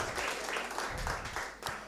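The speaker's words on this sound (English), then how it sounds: "Let's have one more round of applause" An audience at a songwriting summer camp certificate ceremony gives a round of applause, a short, fairly faint burst of many hands clapping with uneven swells.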